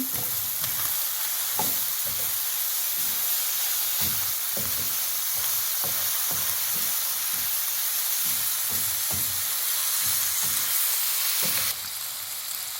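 Steady loud sizzling of chopped carrot frying in a pan, with rhythmic scraping and stirring knocks throughout.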